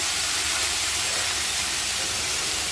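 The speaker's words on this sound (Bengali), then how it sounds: "লাউয়ের খোসাগুলো নেড়ে চেড়ে ভালো করে ভেজে নেব" Bottle gourd peels frying in a pan with salt, turmeric and green chilli, a constant dense hissing sizzle at moderate level with no talk.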